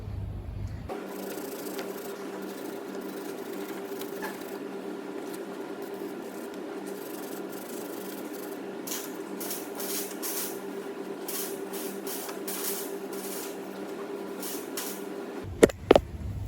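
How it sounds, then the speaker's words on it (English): Steady scrubbing of a wire brush on rusty suspension nuts of a Citroen C1, then a sustained hiss of penetrating oil being sprayed on them, continuous and close with no talk. "scrub up with a wire brush, give them all a soak with some penetrating oil"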